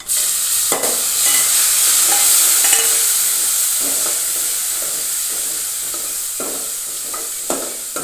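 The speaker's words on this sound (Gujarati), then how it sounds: "હવે આપણે નાખીશું ટામેટા મરચાં." Tomatoes and chillies dropped into a hot pan set off a loud, continuous hissing sizzle close by, broken by a few sharp stirring clicks and scrapes, with no talking.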